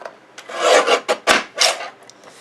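A sheet of cardstock for a card is cut down to size, giving close, loud rasping strokes in several uneven bursts with short pauses between them and no talking.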